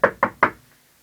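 Three quick knocks on a hollow plastic speaker cabinet, evenly spaced and fairly close, each ringing briefly before fading into silence.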